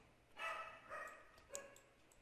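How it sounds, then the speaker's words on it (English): Dogs bark faintly in the background, a few distant yips spread over a couple of seconds beneath a steady low room hiss, with no speech. "You can hear my dogs in the background."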